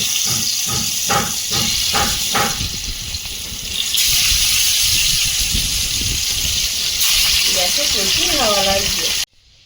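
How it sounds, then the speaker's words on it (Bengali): Fish coated in salt and turmeric fries in hot oil in a wok, giving a loud, close hiss and sizzle. A voice talks over it at the start, and the hiss swells midway before cutting off. "মাছগুলো ভেজে নেব"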